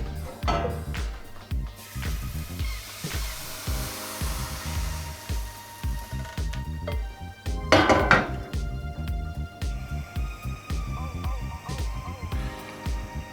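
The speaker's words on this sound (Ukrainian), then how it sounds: "Тепер смажимо млинці." Metal utensils clatter and scrape against a pan while thin pancakes fry in a busy kitchen, with steady background hiss and a louder clang of cookware midway.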